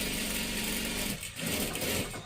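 A sewing machine stitches a salwar in a steady, fairly quiet whirring run that briefly slows near the middle before picking up again.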